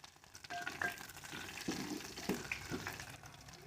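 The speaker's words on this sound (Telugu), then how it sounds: "కట్ చేసి పెట్టుకున్న ఎర్రగడ్డలు వేసుకొని కాసేపు కలిపెట్టుకోవాలి." Chopped onions fry and get stirred in a pan for a bottle gourd masala curry, a soft steady sizzle with occasional scraping clinks of the spoon, close up and without talk.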